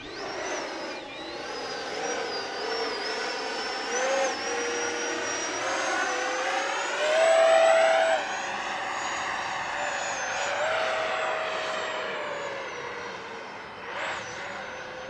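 A radio-controlled model jet flying nose-high at high alpha produces a steady whining turbine drone with rising and falling pitch sweeps, fairly distant and continuous for about fifteen seconds.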